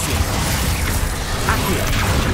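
Bombarda and other spell blasts crash and boom in Hogwarts Legacy on PC, a dense, loud wash of explosive impacts and mechanical clatter filling the whole stretch without a break.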